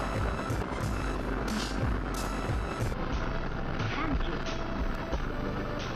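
A rocket lifting off from Japan carrying the UAE Hope Mars mission, heard as a continuous broad rumbling roar that stays steady throughout and sits under a launch announcer's voice.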